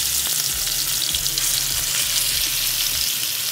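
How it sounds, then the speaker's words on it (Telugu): Chicken leg pieces frying in hot oil over a low flame, a steady, dense, close sizzle with a constant crackling hiss throughout and no pauses. "ఇప్పుడు స్టవ్ని కాస్త లో ఫ్లేమ్లో పెట్టుకొని ఈ పీసెస్ని ఇలా వేసుకోండి"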